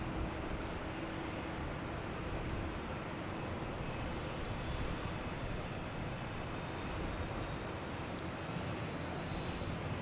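A steady, loud roar of an American Airlines Boeing 737-800 jet engine at Boston Logan Airport, a broad continuous rush lasting throughout with no talking.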